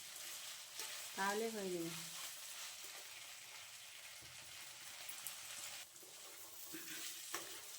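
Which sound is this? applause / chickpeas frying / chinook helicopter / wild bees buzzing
chickpeas frying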